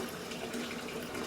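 Running tap water splashes continuously into a tub in an apartment for dye mixing, a steady close gush with no voices.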